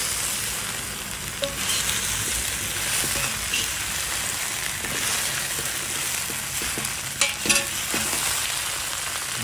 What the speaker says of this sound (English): Now let's put in our shrimp back in. Got our shrimp back in. Now let's mix.